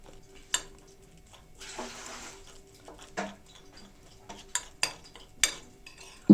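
A spoon presses and rubs garlic with salt in a small dish for a garlic sauce, giving sporadic sharp clinks and scraping strokes, close and fairly quiet with pauses between them.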